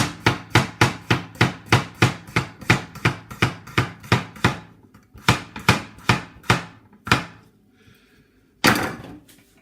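Coolina chef's knife chopping food on a cutting board, a rapid, even run of about twenty sharp, loud knocks close by, then a pause and a final heavier chop.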